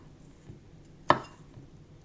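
A single sharp knife stroke slicing through a piece of fresh ginger on a board, one crisp close chop standing out against a quiet kitchen background.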